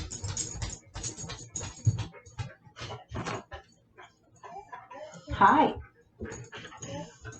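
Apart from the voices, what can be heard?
dog barking and whimpering in the background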